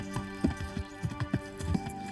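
Horse hooves clip-clopping in Kingdom Come: Deliverance, a steady walking rhythm of muffled thuds over a constant ambient and music bed, moderately near.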